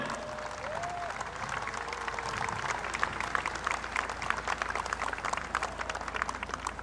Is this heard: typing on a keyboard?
no